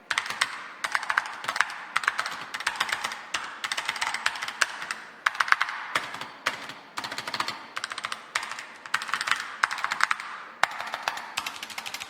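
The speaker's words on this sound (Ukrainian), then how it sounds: "давайте послухаємо, як ця клавіатура звучить. Такий тест тайпінгу." Rapid, steady typing on a Bloody B950 RGB mechanical gaming keyboard, with crisp clacking keystrokes in bursts and short pauses, recorded close up with no voices.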